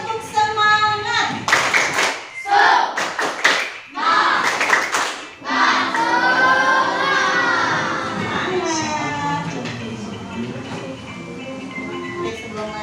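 Indonesian primary school class performing the rhythmic 'tepuk semangat' clapping chant: loud bursts of group clapping alternating with children's chanted voices, then a sustained sung chant, close and lively in a classroom.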